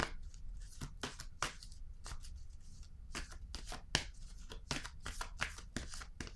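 A deck of tarot cards shuffled by hand at close range, with repeated soft riffles and sliding card flicks in a quick, uneven rhythm, alone without voices.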